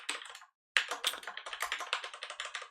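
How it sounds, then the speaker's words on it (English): Someone types code on a computer keyboard in quick, close, clicky bursts, with a brief pause before a longer run of rapid keystrokes. "I'm typing stuff"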